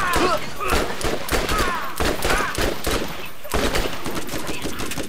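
Rapid bursts of gunfire in the video game Borderlands crackle loudly and repeatedly across the whole stretch, with faint voices underneath.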